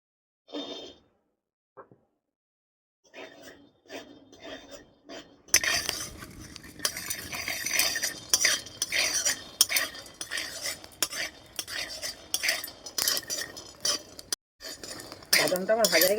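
Peanuts dry-roasting in a kadai are stirred with a metal spatula: a few sparse clinks, then from about five seconds on a busy, continuous rhythm of scraping and rattling, close and fairly loud.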